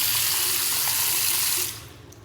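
Hot water gushes steadily from a tap, a loud close hiss that cuts off abruptly near the end and leaves a faint residual trickle, with no voices.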